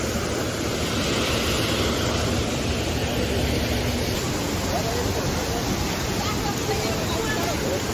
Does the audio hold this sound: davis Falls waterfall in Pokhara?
yes